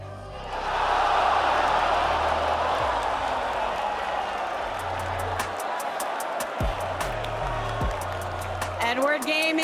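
A packed arena crowd roars at the 2022 LCS Summer Split finals esports match between Cloud9 and 100 Thieves. The sustained wash of cheering sits under commentator talk and low music, with a few sharp clicks near the end.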